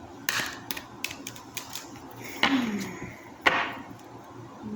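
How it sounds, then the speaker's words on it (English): Quick papery shuffling of tarot cards, a run of soft riffling taps and slaps with a couple of sharper snaps, close by and alone. "I'm being told to shuffle for the Moon card, so let me just shuffle real fast."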